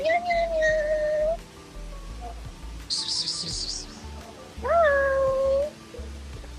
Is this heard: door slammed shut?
no